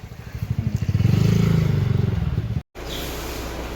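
A motorcycle engine putters at close range as the bike is brought in and parked at a bus depot, its rhythmic low pulsing holding steady before a brief cutout and a quieter idle afterward.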